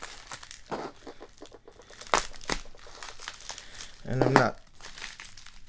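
Paper envelopes from trading card packs crinkle and tear open in short bursts, with a louder rustle toward the end, while a voice speaks briefly.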